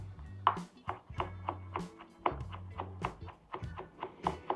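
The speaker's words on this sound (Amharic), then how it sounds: "ያዘጋጀነውን ቲማቲም በዚህ መክተፍ እንጀምራለን።" A kitchen knife chops a tomato on a cutting board in quick, fairly regular taps, about two or three per second, soft and close with a light ringing tone on each strike.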